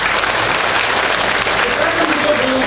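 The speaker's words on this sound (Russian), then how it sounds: "Давайте похлопаем." Loud, dense applause from a concert audience fills the hall in a steady, continuous clatter of many hands throughout.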